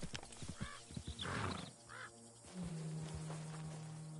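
Horse sounds in Red Dead Redemption 2, with a few close hoof clops and snorts, a whinny-like burst, then a steady low tone holding to the end.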